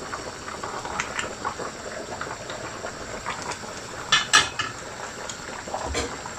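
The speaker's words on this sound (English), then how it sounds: "As you can see, it's boiling on high heat" Steady bubbling hiss of a pot of beef nihari at a rolling boil on high heat, with occasional clinks and a couple of sharper metallic rattles, no talking.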